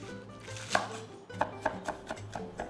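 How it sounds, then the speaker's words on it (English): Knife chopping green onions into 3-inch lengths on a cutting board, a series of crisp, close taps at an uneven steady rhythm, with no talking. "Cut them into 3-inch lengths."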